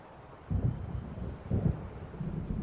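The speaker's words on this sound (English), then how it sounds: "It seems there's a storm coming." An approaching thunderstorm in the video game Alan Wake Remastered: low rumbling rolls of thunder swell twice amid wind-like noise, distant and moderately loud with no talking.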